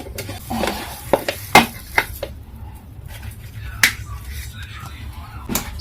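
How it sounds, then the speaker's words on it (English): A cooking pot turned upside down to tip stiff ugali onto a plate gives a few sharp knocks and taps against soft clatter and low kitchen background, with no voice. "I'm just going to turn my pot upside down to get my ugali to the plate"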